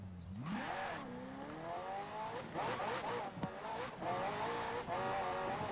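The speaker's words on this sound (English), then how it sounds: "I wouldn't say the engine in the P1 necessarily sounds the best" A McLaren P1 engine in Forza Horizon 4 revs up and down with rising and falling whines, tires squealing at moments, loud and steady throughout.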